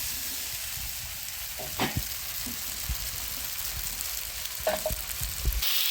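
Potatoes and pointed gourd going into a wok of hot oil while cooking a fish-head dish, with a steady close sizzle of frying and occasional scraping, clattering stirs of a spatula against the pan.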